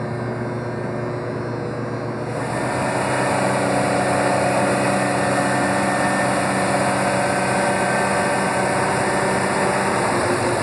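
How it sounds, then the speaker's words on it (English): A Toyota Tundra engine idles steadily after an electric cooling fan install, a continuous close mechanical hum with a constant fan-like whir that grows slightly louder after the first couple of seconds, with no talking. "after the install of the electric fan, we've reduced the engine noise compartment considerably at idle"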